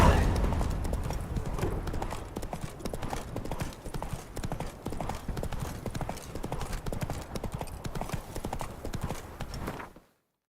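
Hoofbeats of Roach, a horse in The Witcher 3, clip-clop in a steady galloping rhythm, loud and close throughout before cutting off abruptly near the end.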